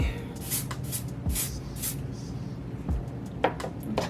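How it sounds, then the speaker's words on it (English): Several short bursts of hair spray hiss close by, spaced irregularly, with soft handling rustles in between. "Using my spray."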